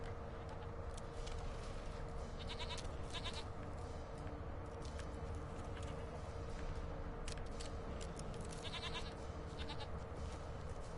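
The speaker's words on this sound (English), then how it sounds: "Oh, I heard the goat." Goat bleats sound repeatedly over a steady droning ambience in The Witcher 3, several short nasal cries spread through the scene with no talking.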